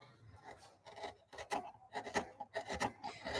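A spoon bent gouge carves hollows in wood, making a quiet series of short, uneven rasping scrapes close by.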